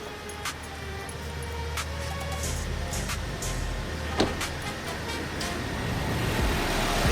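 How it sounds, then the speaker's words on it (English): An Audi Q3 engine idles smoothly with its check engine light on, a low steady hum close by with a few faint clicks and knocks on top and no one talking. "so far the car's running smooth"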